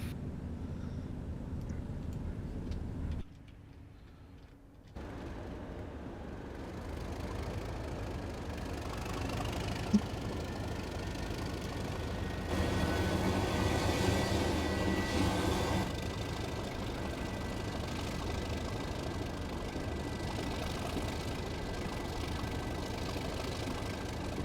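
A Class 37 D6700 diesel locomotive in a Train Sim game drones at full throttle with a steady, rumbling engine note that briefly dips and then swells louder midway through.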